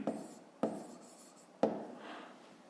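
Chalk writing on a board during a fifth-grade math lesson: three sharp taps of the chalk striking the board, each followed by a short scratchy stroke, quiet and close, with no talk.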